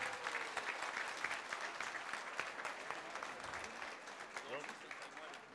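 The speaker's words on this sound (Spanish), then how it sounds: "El aplauso fuerte" Loud, sustained applause from a large crowd at a mass wedding event in Boca del Río, dense clapping filling the whole stretch without pause.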